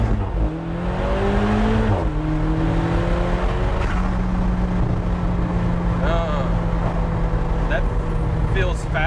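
Alfa Romeo 4C with an upgraded engine mount pulling hard from inside the cabin, a loud droning engine note rising then dropping sharply at a quick dual-clutch gear change, with people talking over it.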